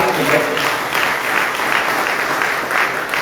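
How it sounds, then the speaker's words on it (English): A university audience at a student economics hub launch in Liberia breaks into sustained clapping, a dense even patter of many hands close by. "Let's clap for it."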